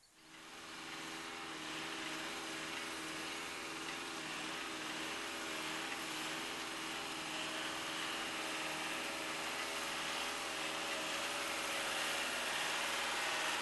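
A Vermeer rubber-tire trencher engine drones continuously throughout, a constant mechanical hum with a broad high hiss layered on top, no voices.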